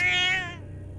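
A single drawn-out cat meow from the Junji Ito Maniac video game, clear and close, tapering off over a low background hum.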